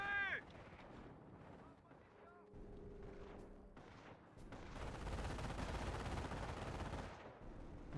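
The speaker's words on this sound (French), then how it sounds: "On se fait tirer dessus." Gunfire and artillery explosions from the Company of Heroes Normandy battle, with dense, loud rumbling bursts building in the second half, mixed with scattered shots and voices talking over the combat.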